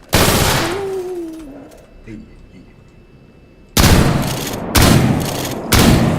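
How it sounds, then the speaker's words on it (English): A badly worn shotgun fired three times in the video game S.T.A.L.K.E.R. G.A.M.M.A: loud, heavy blasts roughly a second apart, following a brief voice and a quieter stretch. "This is a very knackered shotgun, but 3 shots to the head and chest"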